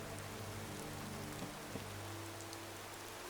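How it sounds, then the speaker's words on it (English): Steady rain falls in the Skyrim video game, an even, close hiss of drops on surfaces with a faint low hum beneath and no talking. "And here it is raining."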